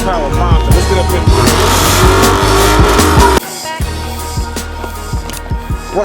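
A Dodge Hellcat with a manual gearbox and 707 horsepower roars loudly up close, the engine revving hard with a rising note before dropping abruptly to a lower rumbling idle partway through.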